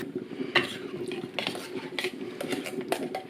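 A can of baked beans being opened in a kitchen: a handful of sharp metallic clicks and scrapes at uneven intervals over a low steady background hum, close by, with no talking.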